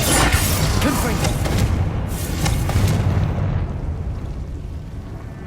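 Booming spell blasts from the Hogwarts Legacy video game, a Confringo fire spell bursting loud and close in a short series of explosive impacts under a player's voice, then rumbling away and fading.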